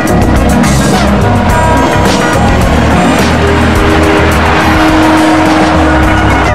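High-end BMW M3 or M4 sports car revving hard with loud, sustained tire squeal and skidding, engine roar filling the scene at close range throughout.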